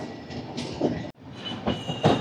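Double-decker Uday Express train from Visakhapatnam to Guntur, eight coaches, rolling toward a road-cum-rail bridge, with a steady broadband rumble, rattling wagons and brief screechy accents, recorded close from on board.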